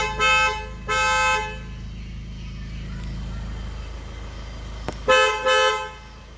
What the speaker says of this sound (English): I have also changed the horn.